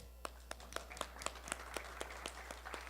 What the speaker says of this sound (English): People want to applaud.